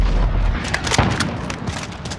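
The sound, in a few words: stun grenade going off in a video game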